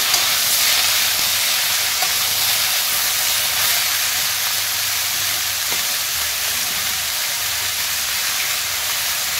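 Ridge gourd pieces dropped into a hot pan with bay leaf, dried red chilies and nigella seeds give a loud, steady, broad sizzle that holds evenly throughout with no voices.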